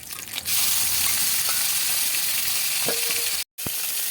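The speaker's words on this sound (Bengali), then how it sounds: "চিংড়ি মাছ গোলমরিচ আর লবণ দিয়ে মেখে রেখেছি, ওই তেলেই আবার ভেজে নিচ্ছি" Prawns rubbed with black pepper and salt fry in hot oil, giving a loud, dense, continuous sizzle close by, broken by a brief dropout near the end and a faint utensil scrape.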